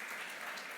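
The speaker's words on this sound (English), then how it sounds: "can I have a round of applause, please, for our panel" Audience applause for a conference panel at an investor event main stage, a steady even wash of many hands clapping throughout.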